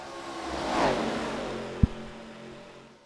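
Race cars lapping the Charlotte oval in a sim racing game, a steady engine drone that swells and sweeps as a car passes close around the middle, with a short sharp knock partway through.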